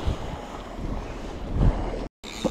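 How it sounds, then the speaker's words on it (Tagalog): Strong sea waves rock a fishing boat out on open water while wind buffets the microphone: a steady roaring wash that swells near the end, then a brief dropout and a short splash. "Lakas ang alon guys."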